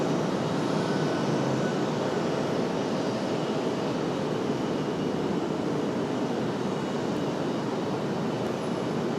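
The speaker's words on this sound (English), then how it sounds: "At Southwest departure, off to the House of Mouse." Southwest Airlines jet departing from RDU for MCO, a dense, steady roar of jet engines at constant loudness throughout, with no voices.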